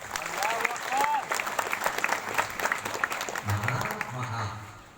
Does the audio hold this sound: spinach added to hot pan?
no